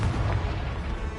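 A blasting-spell explosion in a Harry Potter video game: a dense, loud low boom filling the whole clip with a rumbling body and no clear gap, heard alone without speech.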